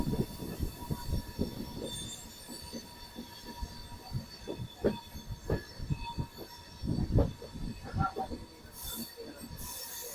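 Aboard the Secunderabad to Vasco da Gama bi-weekly express, wheels clatter rhythmically over rail joints with a steady rumble and occasional thumps, and a brief high wheel squeal near the end.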